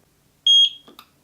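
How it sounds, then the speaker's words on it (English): A single short, high-pitched electronic setup beep from a Eufy Security Solo Indoor Cam C24, clear and close in a quiet room, followed by a faint click. "And we heard a beep, and it knows it heard a beep"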